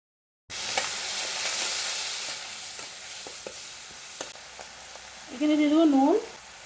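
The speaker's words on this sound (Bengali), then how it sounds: "এখানে দিয়ে দেবো একটু আস্ত জিরে" Whole cumin seeds hit hot frying oil in a pan, starting with a sudden bright sizzle that settles into a steady crackling hiss with scattered pops, followed by a brief whistling tone near the end.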